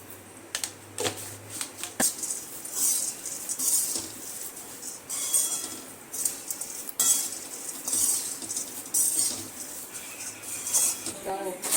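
Puffed rice being stirred with turmeric and salt in a metal pan, giving a busy run of light scraping and clinking from the spoon, steady and close, with faint talk in the background.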